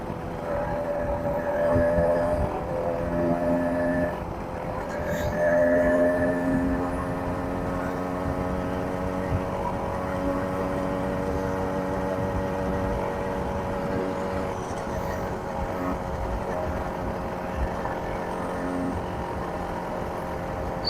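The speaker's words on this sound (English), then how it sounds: "right there it sounds real 4-strokey, doesn't it?" A 110cc four-stroke motorized bicycle engine fitted with a silencer drones steadily while riding, a close, continuous tonal hum with two brief swells in revs early on, no talking.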